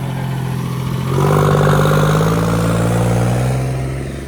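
A tractor engine runs close by with a steady low throb, rising into a louder, sustained rev after about a second before easing slightly toward the end.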